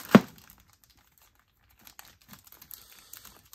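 Parts of a Volkswagen–Audi car jack lifting kit being unpacked: one sharp crinkle of packaging up front, then a quiet pause and a run of light, scattered rustles and taps.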